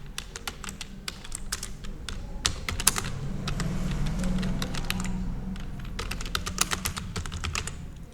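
Someone types a line on a computer keyboard in a WordPad document, producing quick irregular bursts of key clicks with brief pauses between words, heard close and clear.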